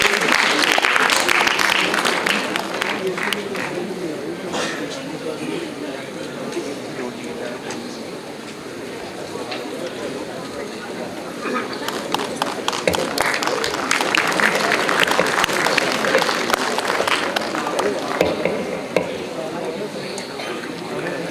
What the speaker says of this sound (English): A huge round of applause. These applauses should not stop.